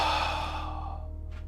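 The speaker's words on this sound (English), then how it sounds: "that's using the belly to breathe" A long, steady exhale from a deep belly breathing exercise, a soft breathy rush that slowly fades over about a second and a half, close and alone with no talking.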